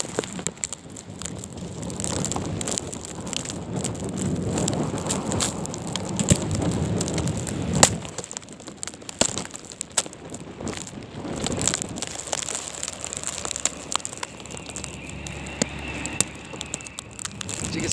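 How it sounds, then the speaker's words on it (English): Blizzard winds driving snow through the Bronx during Winter Storm Stella, a steady loud roar and hiss with gusty surges throughout, no speech. "this is Winter Storm Stella"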